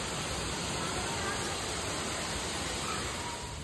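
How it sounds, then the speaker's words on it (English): Indoor fountain or waterfall inside Nakheel Mall in Dubai, a steady broadband rush of falling water that holds even and loud throughout, with no talk over it. "I saw this fountain or waterfall kind of thing"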